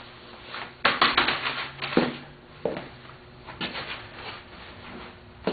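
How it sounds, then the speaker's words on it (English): Cardboard being torn down from a Cub Cadet during a repair, giving several sharp ripping and crackling bursts with pauses between them, close and fairly loud, with no talking. "tear down this cardboard"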